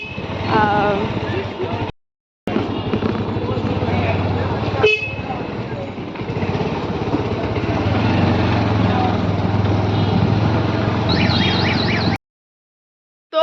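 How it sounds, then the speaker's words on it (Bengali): A motorbike engine droning steadily while riding on a road, loud and continuous with wind rumble, horns tooting from traffic, and a short break partway through. "যাচ্ছি বাইকে"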